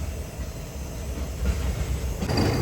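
A long train rumbles past close by, a steady low roar with rolling wheel noise that builds slightly louder toward the end, with no talking.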